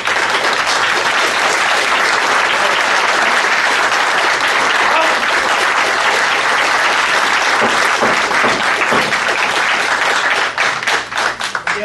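Loud, sustained applause from an audience at a public meeting in Concord, NH, steady clapping filling the room for the whole stretch and thinning slightly near the end.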